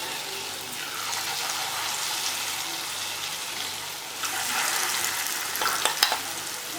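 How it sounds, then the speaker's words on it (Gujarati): Chana dal vada pakoras frying in hot oil, a steady soft sizzle and bubbling that swells louder near the end, with a few light spoon clinks. "આપણે ચમચીની મદદ વડે તેલમાં જ્યાં પણ જગ્યા હોય ત્યાં પકોડાને તળવા માટે મૂકી દેવાના છે"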